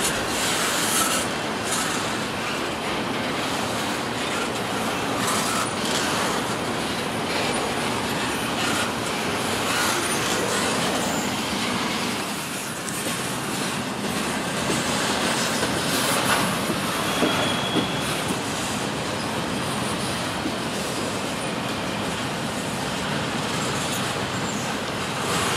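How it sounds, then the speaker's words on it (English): A freight train rolls steadily past at close range into a rail yard in North Baltimore, with a continuous rumble, clacking wheels and occasional metallic squeals, and no voices. "Let's just get the rest of this train going into the yard."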